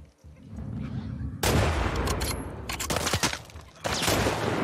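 Gunfire bursts from a combat sequence in The Last of Us Part II, a quiet lead-in broken by loud, dense cracking shots that come in clusters, then a brief lull before another heavy volley.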